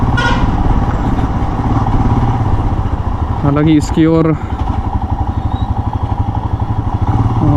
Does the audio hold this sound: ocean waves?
no